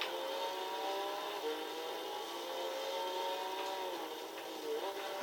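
A Tommykaira ZZII engine revs steadily in Gran Turismo 6, a sustained, even drone holding near and loud throughout with only slight pitch shifts and no talk over it.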